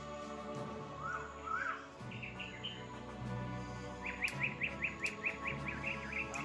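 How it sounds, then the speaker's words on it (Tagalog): A bird calls repeatedly outdoors, first a few rising whistles, then a quick run of evenly spaced chirps, moderately faint over background hum. "Yan ang ibon ng bundok."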